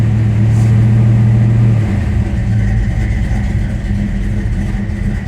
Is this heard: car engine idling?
yes